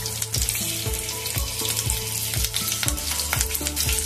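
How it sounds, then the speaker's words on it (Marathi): Four or five green chilies fry in hot oil for mung vada, a constant crackling sizzle with regular soft knocks and scrapes from stirring, close up and with no talking. "आता सगळ्यात आधी आपण याच्यात मिरची तळून घेऊया।"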